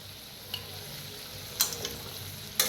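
Pumpkin is stirred in a pan with crushed peanut powder, salt and jaggery over a low, steady sizzle. A few sharp scrapes of the spoon stand out: one early, a cluster in the middle and one near the end.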